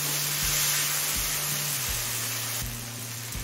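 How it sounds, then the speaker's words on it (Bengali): Chopped tomatoes sizzling and frying in a pan for shrimp pulao, a steady close hiss with a low hum underneath and no talking. "এবার টমেটোটা গলে আসা পর্যন্ত ভেজে নেব।"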